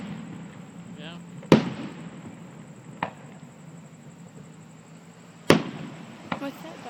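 Fourth of July fireworks burst at Briarwood Country Club: four sharp, loud booms at uneven intervals, with the second and fourth hardest, over steady crowd chatter and background murmur.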